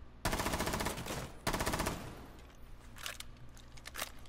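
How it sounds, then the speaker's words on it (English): Bursts of automatic gunfire in a video game blast through a wall, two loud rapid volleys followed by a few fainter scattered shots. "someone's shooting through it"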